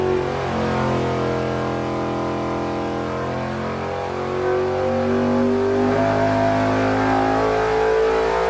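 A nitrous-injected engine runs on a dyno, a loud close roar that climbs steadily in pitch as it pulls through the revs.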